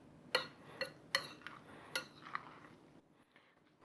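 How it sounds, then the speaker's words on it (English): Salad ingredients being mixed in a bowl with utensils, producing a few sharp clinks and scraping taps spaced irregularly over a quiet background, fading to softer rustles at the end. "Mix everything together."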